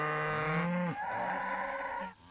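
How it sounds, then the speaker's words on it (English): Hungry cows and calves on a Wimauma farm moo loudly and near, a long drawn-out low call followed by another overlapping moo and a shorter bellow at the end. "This mooing makes farmer Scott Nismith sick to his stomach."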